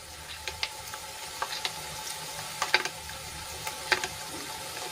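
Spices sautéing in a pan for a Gujarati curry, a faint, steady sizzle with scattered small pops and crackles, heard alone at low volume.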